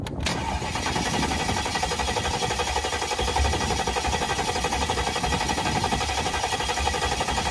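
The engine of a 2002 Mercedes S500, primed with gasoline poured into it, cranks steadily over and over for several seconds without catching, giving a loud, even whirring churn.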